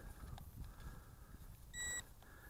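A single steady electronic calibration beep from a ZLRC Beast SG906 GPS drone, close and clear, lasting a moment against a quiet room hum.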